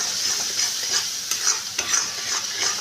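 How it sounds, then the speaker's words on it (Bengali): Spice paste with ground coriander and salt frying in oil for Bengali patol posto, a dense bright sizzle broken by regular scraping stirs, close and continuous with no voices. "স্বাদ অনুযায়ী নুন, সব দিয়ে মশলাটাকে এবার আমি ভালো করে কষিয়ে নিচ্ছি"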